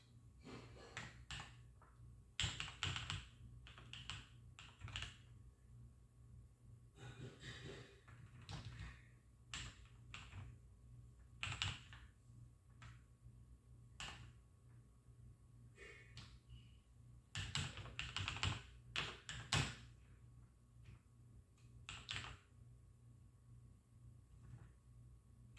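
Keys clatter in irregular bursts on a homemade Artemis keyboard built for a CoCo computer while a program is typed in, the taps close and fairly quiet over a low steady hum, with no talking.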